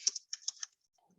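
Quick bursts of keystrokes on a computer keyboard, two short clusters of light, crisp taps close to the mic, then near silence.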